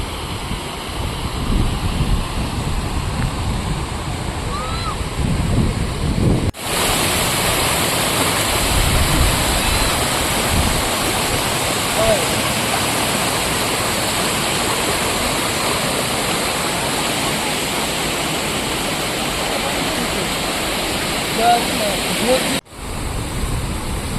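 Steady, loud rush of water flowing at a lake dam fills the whole clip, a broad continuous roar with a brief cut near the end.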